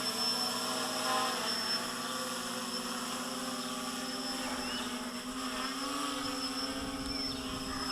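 A GAUI X500 drone flies and climbs, its rotors giving a steady buzzing whine with a sustained tone that rises slightly as it gains altitude, heard clearly without talk.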